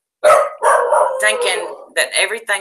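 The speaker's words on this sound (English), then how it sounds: "Sorry about my dogs." Dogs barking loudly and repeatedly in a home, a run of close barks in quick bursts with someone talking over them.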